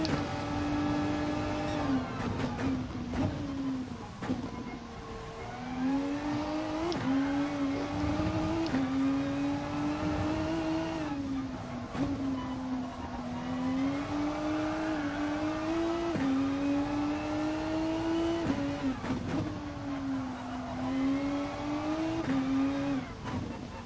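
Race car engine in the video game GT Sport, a steady loud drone with repeated rises and falls in pitch as the car accelerates and shifts through corners, heard alone without talk.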